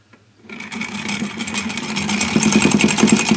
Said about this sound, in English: So if I turn that motor on now,